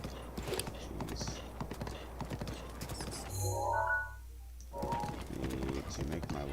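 Horse hooves clip-clop steadily in a video game as the ridden horse travels, a continuous rhythmic trot layered with other game ambience.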